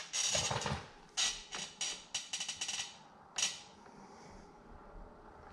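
Sharp metallic taps of a hammer on a socket driving an outboard motor trim bushing into place, a quick irregular series of close, ringing blows with short pauses between them.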